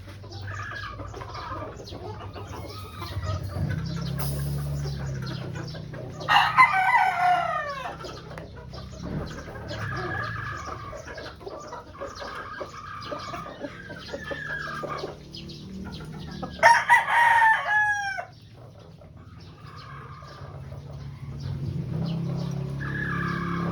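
A Pure White Kelso brood stag rooster of peacomb type crows twice, loud and close, each crow rising then trailing off, over steady low background rumble and faint clucking of nearby fowl.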